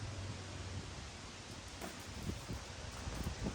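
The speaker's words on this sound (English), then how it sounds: "Sorry about the wind, also it's pretty windy." Wind buffets the microphone outdoors beside a Ford F-350 pickup truck in a constant low rumble and hiss, with light rustling layered on top and no voices.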